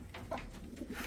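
Pigeons in a breeding loft coo softly, a few low faint murmuring calls close by in a quiet room.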